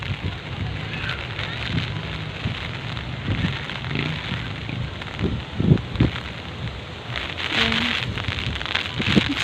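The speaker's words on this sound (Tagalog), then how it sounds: "Kusuga na sa hangin guys," Strong wind and heavy rain from Super Typhoon Odette lash Bankal, Lapu-Lapu City in Cebu, a loud, continuous roar of driving rain with surging gusts and sharp spatters close by.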